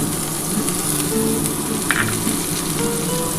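Browned eggplant sizzles in hot oil as fried neem leaves are added to the pan, making a continuous, fairly loud frying hiss with a brief spatter partway through.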